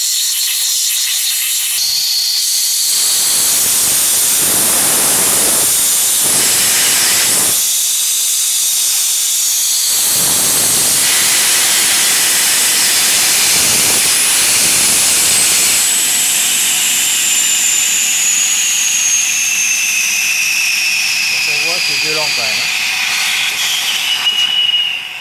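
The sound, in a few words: hot water rushing out of a 2000-litre electric water heater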